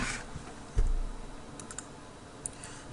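Mouse clicks confirming a Windows shutdown in a Hyper-V console, a few sharp, quiet taps spread across a low background hiss, one heavier knock early on and no voices.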